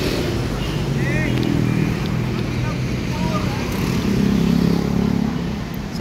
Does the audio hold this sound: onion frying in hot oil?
no